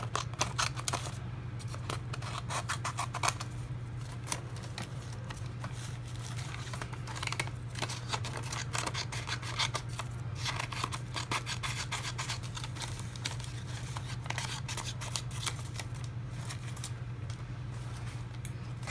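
Scissors cutting out paper for an art journal, heard as quiet, rapid rasping snips and rubbing that repeat steadily over a low constant hum.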